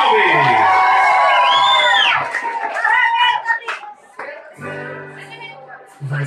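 An audience at a song festival greets a singer with loud cheers, high whoops and scattered clapping, mixed with excited voices calling out nearby.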